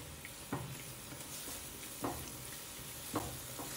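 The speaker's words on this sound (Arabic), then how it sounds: "أحمس الثومة بالزيت" Crushed garlic sizzles gently in oil in a pan, a soft steady frying hiss with a few stirring scrapes roughly every second, faint and close with no talking.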